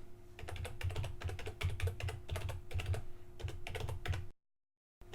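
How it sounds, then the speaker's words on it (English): Rapid clicking keystrokes on a computer keyboard as a domain name is typed, a dense, steady close-up patter over a faint hum that stops abruptly into silence. "Just type in your domain name."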